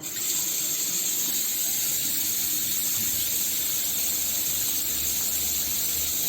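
Hot water runs from a tap fed by a domestic gas boiler powered by a portable generator, a steady, even hiss of flowing water that continues unbroken throughout.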